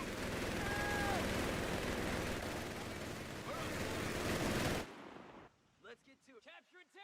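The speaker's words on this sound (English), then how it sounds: "Contact, heavy MG." Heavy machine gun fire in the video game Company of Heroes 3, a dense sustained burst of rapid gunfire for about five seconds, loud and close, then cut off as voices speak briefly.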